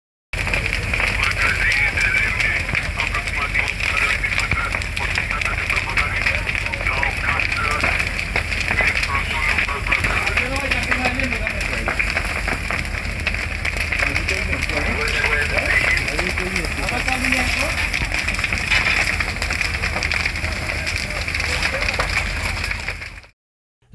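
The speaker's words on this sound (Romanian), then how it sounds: "Incendiul a distrus o anexă de aproximativ 80 de metri pătrați în care se aflau lemne" A fire burns through an outbuilding of about 80 square meters that held firewood, giving a steady loud crackle and roar throughout, with a faint voice under it.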